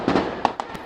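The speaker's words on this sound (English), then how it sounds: "Thunder of gunfire." Gunfire in a standoff at a Jersey City Jewish market, heard as several sharp cracks: a heavy burst at the start, then three separate distant-sounding shots spaced over under a second.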